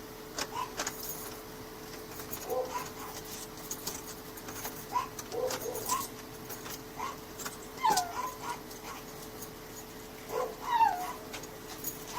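A dog whimpers and yips in repeated short, high cries during a rescue from a locked enclosure, the whines coming near and fairly clear over a steady low background hum.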